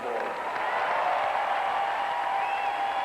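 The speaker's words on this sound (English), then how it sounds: "applauding the crowd" Steady crowd applause fills a tennis stadium at a 2002 WTA semifinal in San Diego, a continuous broad wash of clapping at moderate level with no clear individual claps standing out.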